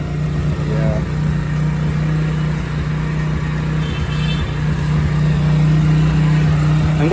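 Motorcycle engine idling steadily after being started following a lockdown layoff, a continuous low, even hum running close by for the whole stretch, with faint background noises around it.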